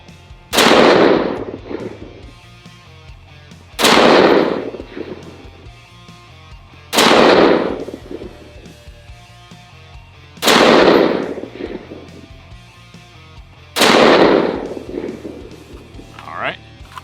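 Five loud, sharp gunshots from a Bravo Company 11.5-inch 5.56 AR-15 pistol firing Browning .223 BXV 50-grain varmint rounds, spaced roughly three seconds apart, each with a short ringing tail over a low background hum.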